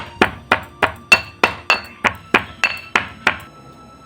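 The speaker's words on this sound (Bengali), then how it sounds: "এগুলোকে হামাল দিস্তে করে ফুটে নিচ্ছি" Cardamom seeds pounded in a mortar and pestle, about ten sharp, evenly spaced clinking thuds, close and distinct with brief ringing decay after each strike and no talk.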